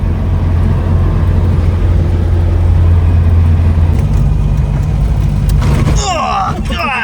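A modified Ford Anglia roars loud and close in a hard launch, a steady low engine drone building for several seconds before a sudden shift into rough, broken noise near the end.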